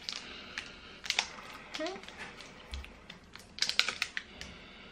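Quiet clicks of typing on a computer keyboard come in short irregular bursts, with a faint voice briefly in the background.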